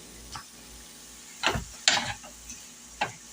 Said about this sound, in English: Now we're just waiting on these onions and peppers.